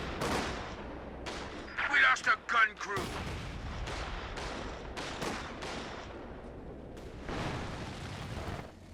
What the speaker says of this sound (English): The incendiary barrage coming down up here.